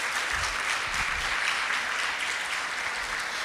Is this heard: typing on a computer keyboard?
no